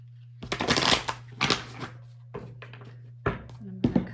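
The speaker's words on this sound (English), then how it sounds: "one more shuffle" A tarot card deck being shuffled by hand in several quick bursts of riffling and flicking, close and crisp, separated by short pauses with a low steady hum underneath.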